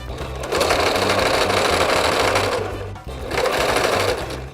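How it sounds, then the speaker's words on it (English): A sewing machine edge stitches across the top of an apron pocket, running steadily for about two and a half seconds, pausing briefly, then starting again close up and alone. "We'll take our pocket back to the sewing machine and edge stitch across the top only."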